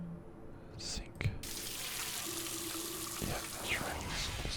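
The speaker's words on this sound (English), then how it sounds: "The sink is very loud." Bathroom sink tap running in the Tacoma video game, a steady close wash of flowing water with a soft whisper over it.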